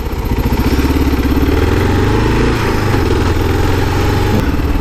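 Kawasaki KLR dual-sport motorcycle engine running on a dirt trail, a loud, close, steady single-cylinder thump with a throbbing pulse and slight rev changes, no talking.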